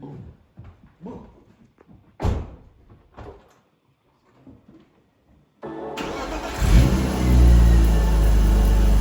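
BMW E36 with a freshly swapped manual gearbox: a couple of door thumps and clicks, then the engine starts up and settles into a loud, steady close-up idle with a light rev.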